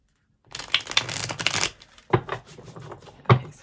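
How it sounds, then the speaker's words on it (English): A deck of tarot cards is shuffled close to the microphone: a dense, crisp riffle lasting about a second, then a pause and a few sharper cracks and taps as the cards are squared, with no talking. "so we're just going to shuffle one more time"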